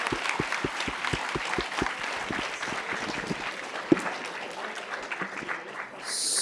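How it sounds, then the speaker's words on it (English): Audience applause fills a conference hall after a panel discussion, steady dense clapping from many hands sustained throughout, with one sharper clap standing out near the middle. "just another huge round of applause for our fantastic panel and to all of you for being here."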